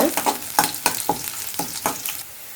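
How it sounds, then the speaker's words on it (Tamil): Garlic sautés in a pan for a chutney, with about half a dozen rhythmic stirring scrapes cutting through a continuous close sizzle. "நல்லா பச்சை வாசனை போகிற அளவு நல்லா அதை வதக்கி விட்டுக்கோங்க."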